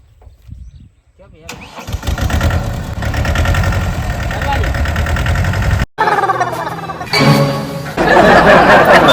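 A tractor engine starts up in a farm field and settles into a loud, steady idle, briefly cutting out and restarting, with voices talking over the rumble.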